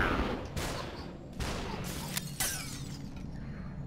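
Gunfire in the video game SUPERHOT: several sharp shots and crashing bursts arrive in quick succession over a dense, busy game soundtrack, loud and close.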